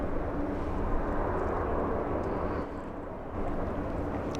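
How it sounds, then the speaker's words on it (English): A Boeing 777 airliner flying downwind near Los Angeles International Airport gives a steady, distant jet engine roar. The rumble holds level throughout and briefly dips in the middle. "Big 777 flying downwind, Josh."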